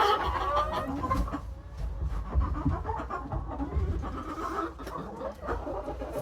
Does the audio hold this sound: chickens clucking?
yes